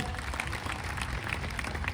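Steady applause from a group cheering participants at an office fire drill, dense continuous clapping throughout the short moment.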